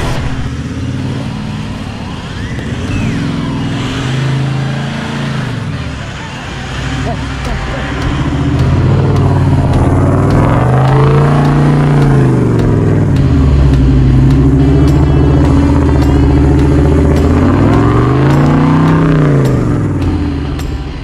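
A four-wheel drive car revs hard on a rough Cape York track, its engine note rising and falling in repeated strained surges, loud and close, while people talk over it.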